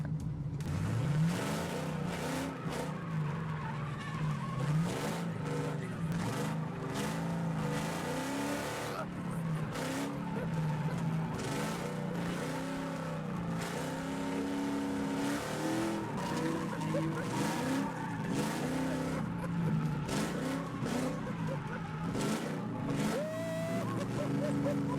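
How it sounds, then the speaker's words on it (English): A car is thrown sideways on tarmac, its engine roaring loud and unbroken while the tires skid and squeal, with voices talking and whooping over the noise. "Oh, there goes my tires."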